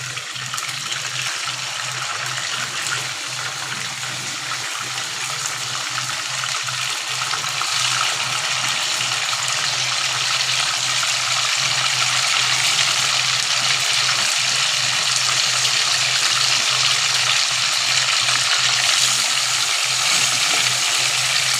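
Chicken pieces fry in hot oil, giving a steady, loud, unbroken hiss that holds evenly for the whole stretch with no talking.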